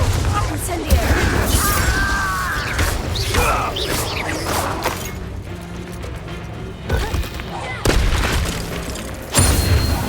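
A fire spell is cast amid combat in Hogwarts Legacy, with loud bursts, crashes and booming impacts layered over game music and a voice calling out spell names.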